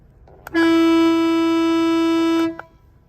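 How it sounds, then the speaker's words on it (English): One long, loud blast of an air horn fitted to a Honda Element, steady and piercing for about two seconds, preceded and followed by faint clicks. "what this does is actually going to power on the air horn itself"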